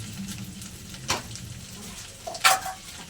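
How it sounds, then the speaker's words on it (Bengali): Ground turmeric, cumin, coriander and chili powders sauté in a pan for spinach kofta curry, a faint, low sizzle broken by two brief stirring scrapes. "সব কিছু একসঙ্গে খুব ভালো করে আমি কষে নেব।"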